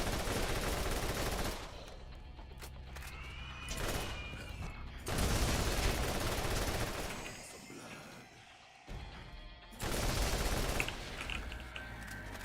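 Hip-fired bursts from the Bastard, a gun in Borderlands, crackle loudly in rapid automatic strings with short pauses between them, layered over game sound effects.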